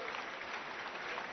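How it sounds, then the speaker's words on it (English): A church congregation at a Sunday service claps together in a steady, dense wash of hands, fairly faint and muffled, continuing without a break through the short stretch. "Shall we clap for wonderful Jesus?"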